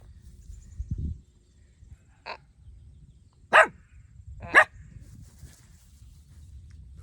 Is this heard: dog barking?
yes